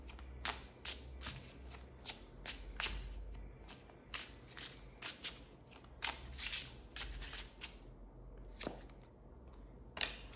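Tarot cards being shuffled by hand make a quick run of crisp, riffling flicks and slaps, close and fairly quiet, arriving in irregular bursts with short pauses between them.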